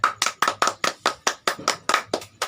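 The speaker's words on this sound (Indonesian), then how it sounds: "Anak-anakku semua sini pintar, tepuk tangan dulu." Schoolchildren in a classroom clap in unison, about a dozen sharp, evenly spaced claps in a quick steady rhythm, close and loud, with no talking.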